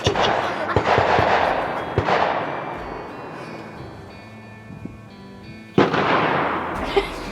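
A Volquartsen VT2 takedown rifle fires CCI 17 HMR rounds: three loud, sharp cracks, the first two close together and a third after a pause, each trailing off in a long echoing decay.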